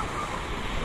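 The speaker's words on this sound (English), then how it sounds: "These waves are awesome. Watch them come in." Ocean waves rolling in at Big Beach on Maui, Hawaii, heard as a steady broadband wash of surf with some wind noise, fairly quiet and continuous, with no talking.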